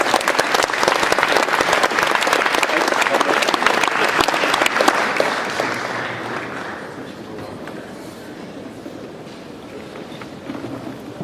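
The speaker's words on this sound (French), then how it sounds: "Vous pouvez les applaudir." Dense applause from an audience at the Utopiales 2016 awards ceremony, loud and sustained for about six seconds before thinning to scattered claps and murmuring, with some speech in the background.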